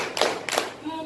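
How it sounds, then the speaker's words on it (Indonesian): At a leadership training session, a group claps in unison with two crisp, sharp claps about a third of a second apart in an indoor room. "Tepuk 1, tepuk 2, tepuk 3,"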